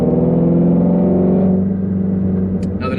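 A Shelby GT350R engine drones loud and steady under 4,000 RPM, a deep, sustained rev that eases off slightly toward the end, with a faint click near the close.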